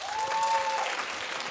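A studio audience claps in a brief, dense burst of applause, steady and fairly loud throughout, with a sustained tone running beneath the first half.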